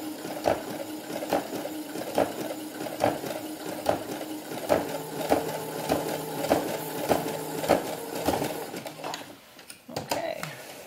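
A sewing machine stitches a sheepskin doll vest up close, its steady mechanical whir broken by short pauses and a regular pulse of needle clicks, with quiet voice sounds in the background.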